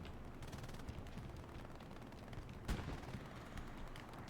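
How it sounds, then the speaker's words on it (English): Rapid, faint gunfire in a competitive shooter match, players blind firing through smoke, a continuous crackle of bursts with one sharper louder shot partway through, heard at low level. "they're all just blind firing through smoke"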